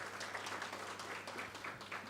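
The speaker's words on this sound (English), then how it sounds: "That deserves an applause." Brief applause from an audience at a corporate sustainability report launch event, a steady patter of clapping lasting about two seconds at moderate distance.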